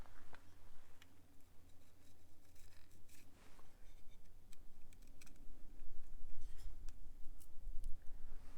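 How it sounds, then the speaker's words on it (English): Dry wheat stem being split open by hand in a dryland field, a run of small crisp ticks and snaps repeating close by, with steady outdoor background underneath. "And I'm just going to split the stem."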